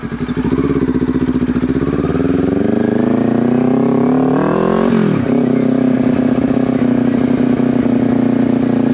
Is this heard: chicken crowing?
no